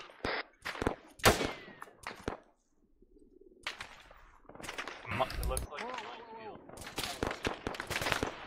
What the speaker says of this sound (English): Small arms fire west